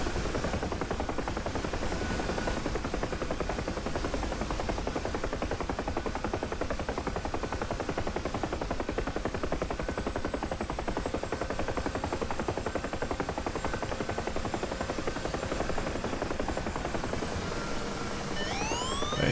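A Huey helicopter flying in the DCS Marianas map, a loud continuous rotor thump and turbine drone held steady from start to finish, with no talking.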